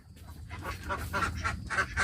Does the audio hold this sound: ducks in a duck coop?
yes